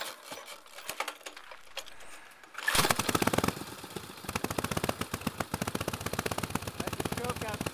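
A 1915 Harley-Davidson motorcycle engine catches after a quiet start and settles into a loud, rapid, uneven popping idle, each firing stroke distinct like a fast chatter, close by.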